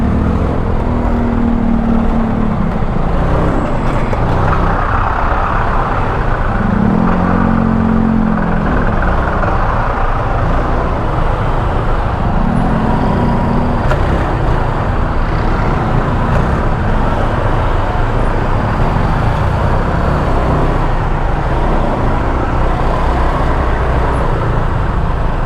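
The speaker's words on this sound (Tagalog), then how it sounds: "Sobrang traffic." Heavy road traffic in Baguio City near the Lourdes Grotto makes a loud, continuous rumble of car and bus engines, with occasional revs and passing vehicles close by.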